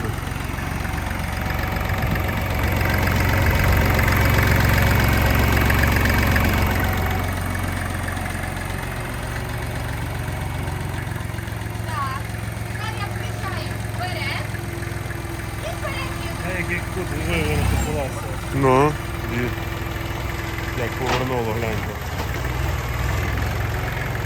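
A Kubota tractor's engine idles with a steady low, rumbling throb, fairly loud and constant, while people talk nearby and some knocks and clicks come from handling controls.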